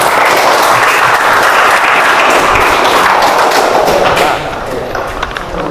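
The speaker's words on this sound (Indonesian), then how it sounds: "Kembali kita kasih tepuk tangan saja dulu." Classroom of students giving loud, close applause in a thick continuous clatter that thins and softens over the final second or so.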